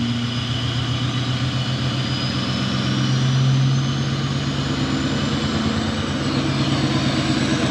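An L5P Duramax diesel pickup engine runs at a steady raised idle, a continuous loud drone with a low throbbing hum and a faint whine that rises slightly, without anyone talking.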